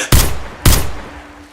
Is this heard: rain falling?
no